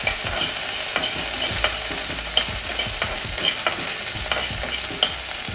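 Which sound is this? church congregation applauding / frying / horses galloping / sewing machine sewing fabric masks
frying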